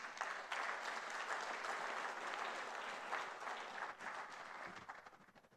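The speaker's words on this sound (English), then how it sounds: "Another round of applause." Applause from a conference audience at a foundation conference in Banjul, The Gambia: sustained, even clapping from a full hall that holds steady for several seconds and then tapers off toward the end.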